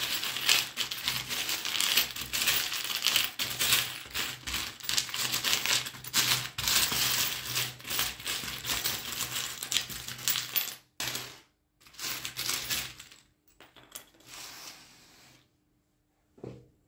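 Small divination charms rattle and clatter as they are shaken and tossed, a dense run of clinking metallic taps for about ten seconds, then a few sparser handling clicks and short bursts before falling quiet.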